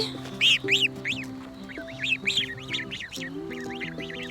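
Goslings honk and peep in a rapid series of nasal calls on a farm, fairly close, with a low steady hum underneath.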